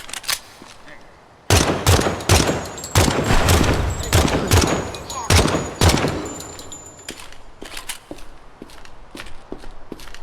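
Rapid rifle fire from a 5.56 gun fitted with a reflex sight and attack light in the video game Project Silverfish, loud sharp shots in quick bursts with a few echoing single shots trailing off.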